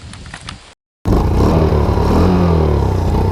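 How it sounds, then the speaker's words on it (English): A Baja Wilderness 90 mini bike engine with a bad carburetor idles briefly, cuts out, then restarts and runs loud and close with an uneven, rough, sputtering drone. "it runs like the carburetor's messed up"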